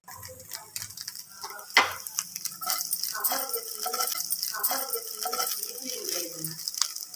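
Green chillies sizzling in a pan as they are stirred, a steady frying hiss with a sharp utensil clack early on, while someone talks over it.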